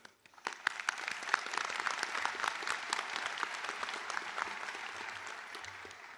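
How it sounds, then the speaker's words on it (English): At a chiropractic doctorate graduation ceremony, the audience breaks into applause that starts with a few sharp claps and quickly swells into steady, full clapping across a large hall. "I would like next to give a round of applause to the families and friends in attendance today and online."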